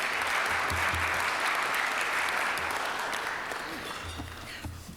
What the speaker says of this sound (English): Let's give them both a round of applause